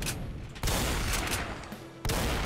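Gunfire from shooting zombies in the video game Doom (Hell Revealed 2) rings out as loud, rapid bursts of shots, two heavy volleys separated by a brief lull.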